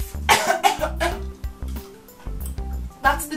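A voice gives several fake coughs in a row, short sharp bursts with pauses between them, close to the microphone, imitating a cough to sneak chewing gum in class.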